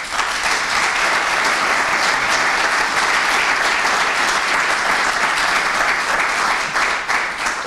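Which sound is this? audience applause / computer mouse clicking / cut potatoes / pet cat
audience applause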